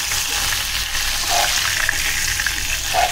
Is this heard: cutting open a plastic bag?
no